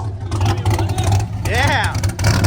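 A Cadillac engine with a newly built loud exhaust idling with a low hum and building in revs, while a person speaks over it partway through.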